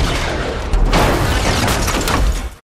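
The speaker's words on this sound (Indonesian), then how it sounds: "mobil yang Marvin kendarai tiba-tiba meledak" A car blowing up in an action movie scene: a sudden loud boom with crackling debris and sustained roaring, dense noise that fills the whole clip before cutting off abruptly.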